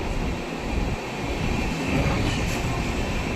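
Steady broadband rumble and rushing noise of a moving train, continuous and fairly loud, with no voices.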